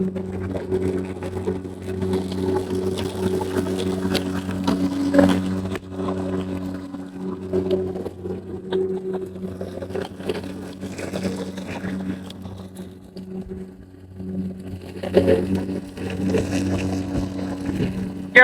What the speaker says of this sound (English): Most noise you get inside the hum of the electric motor is that powerful motor chomping away at the grass and the stumps